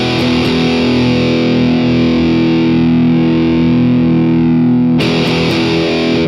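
Loud, saturated electric guitar with heavy distortion through the AmpliTube amp simulator, sustained chords ringing steadily and then re-struck near the end; no voices.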